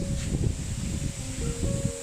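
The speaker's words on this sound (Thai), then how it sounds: "ตอนนี้ลมโอ้โหสุดยอดมาก" Strong wind blowing outdoors beside a fish pond before a storm, a steady loud rush with rustling leaves and buffeting against the microphone, plus a faint steady electrical hum.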